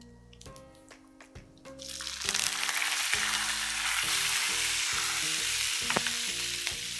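Curry leaves and spices crackle and sizzle sharply as they drop into hot coconut oil for tempering, settling into a steady loud frying hiss with occasional pops.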